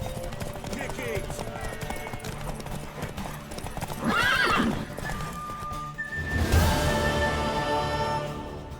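A horse in The Witcher 3 neighs loudly twice amid rhythmic hoofbeats and background game sounds, the whinnies rising sharply over the steady clip-clop.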